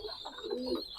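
Pakistani highflyer pigeons give soft, low cooing in a brief close burst against a faint hiss of background noise.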